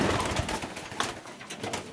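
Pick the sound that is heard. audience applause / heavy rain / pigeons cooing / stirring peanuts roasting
pigeons cooing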